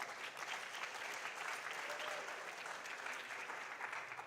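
Spectators at a national junior science and maths quiz championship clap for a school team. The applause is loud, steady and sustained, from a large crowd, with only faint voices mixed in.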